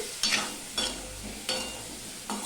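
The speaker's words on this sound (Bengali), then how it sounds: "নুন হলুদ দিয়ে আলুটাকে ভালো করে আমি মিশিয়ে নিচ্ছি" Potatoes being stirred with salt and turmeric in a pan for a Bengali-style egg curry, heard as four distinct scraping strokes of a spoon against the pan over a soft background sizzle, close by with no talking.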